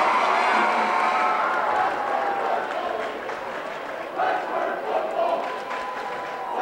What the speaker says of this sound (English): The AB crowd and the Westford crowd are going at it, taunting each other